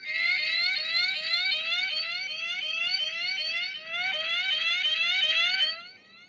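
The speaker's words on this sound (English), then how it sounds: "This is the sound of an Amazon pager." An Amazon pager alert sounds as a rapid, insistent series of rising electronic chirps, repeating evenly and loudly for about six seconds before stopping abruptly.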